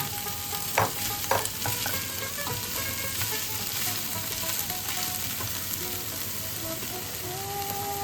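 Hand-mashed soybean hits hot oil in a frying pan and sizzles steadily, with a couple of sharp clatters near the start from stirring, all at a moderate, even level.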